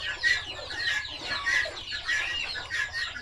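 Chickens, including a mother hen, cluck and chatter repeatedly nearby in a steady, busy rhythm, with no talking.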